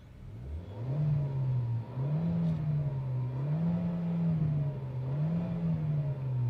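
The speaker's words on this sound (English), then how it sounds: "how it sounds when you rev it hard inside the cabin" Inside the cabin of a Kia Seltos turbo-petrol iMT, the engine is revved hard several times in a row, its drone rising and falling in repeated waves, loud and close with no talking.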